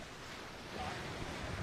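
Ocean waves on the beach at Hoi An, Vietnam, a steady broadband wash of surf mixed with wind noise, swelling slightly louder partway through, with no voices.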